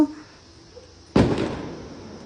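A single sharp firecracker bang goes off outdoors partway through, followed by a rumbling tail against quiet background noise.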